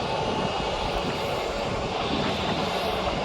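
Aircraft engine roar at Birmingham Airport, a Jet2.com jet taxiing or departing for Thessaloniki, loud and steady throughout with broadband rumble and no talk.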